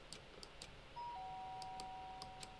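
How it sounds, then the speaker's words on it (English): A doorbell rings in the video game Danganronpa, with a few quiet chime-like tones and a sustained electronic note. It plays alone at a low level, with no talking. "The sharp sound of the doorbell pierced my sleepy haze and pulled me back into the real world."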